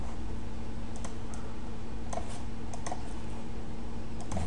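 Quiet keystrokes on a computer keyboard, a scattered series of soft clicks over a low steady hum, with no talking.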